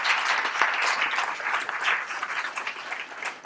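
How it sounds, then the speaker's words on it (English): Wedding guests applaud the grandmother with steady, dense clapping that fills the room from start to finish, broad and sustained with no speech over it. "please give my grandmother a round of applause."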